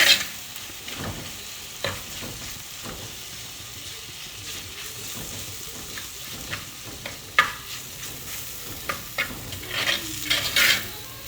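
Egg curry being stirred in a frying pan, with a steady sizzle and scattered scraping knocks of the spoon against the pan, close and moderately loud, no voices.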